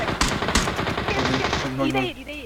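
Rapid gunfire from a battle royale video game crackles in quick bursts under overlapping players' voices, fading into clearer talk toward the end.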